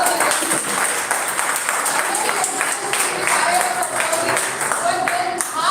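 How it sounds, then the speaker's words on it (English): Sustained applause from a crowd at a Rotaract club gathering, a dense steady wash of clapping with some voices mixed in throughout. "Please a huge round of applause."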